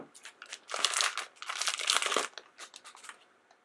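Crinkly plastic blind bag packaging for a Monster High Mineez Series 1 toy being cut open, giving bursts of close, loud crinkling and rustling that rise and fall over a few seconds, then settle into quieter crackles.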